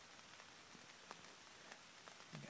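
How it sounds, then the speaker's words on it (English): Steady rain showers patter on surrounding surfaces outdoors during a deer hunt, a dense even hiss with scattered sharper drops, close and constant, with no voices. "got a rain, a lot of rain showers just moved in"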